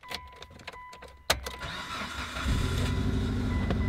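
A modified car engine cranks with a few sharp starter clicks and whirs, then catches and settles into a loud, steady idle that continues close by.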